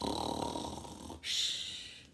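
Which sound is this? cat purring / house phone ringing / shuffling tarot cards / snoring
snoring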